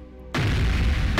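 A meteor shower or fireworks explosion in the video game Moon Farming hits as a sudden loud boom, then a sustained roaring rumble that fills the rest of the moment.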